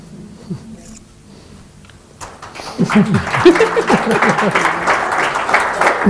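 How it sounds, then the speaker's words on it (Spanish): Applause breaks out from a live audience at a literary talk, starting quiet with a few murmurs and then rising into sustained clapping that grows louder and fuller toward the end. "Aplauden el cabreo, lo comparten."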